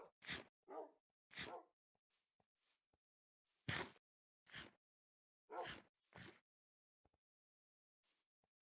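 Minecraft dogs (wolves) make short, separated barking and yipping sounds in the game, quiet and spaced irregularly with silence between.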